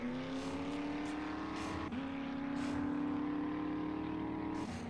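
A vehicle drives in the survival video game 7 Days to Die with the Darkness Falls mod, its engine droning steadily at a fairly constant pitch with a brief dip partway through.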